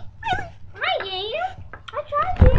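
A dog whimpering and yipping in a series of high, wavering whines and squeaks, close by, with voices and some background noise underneath.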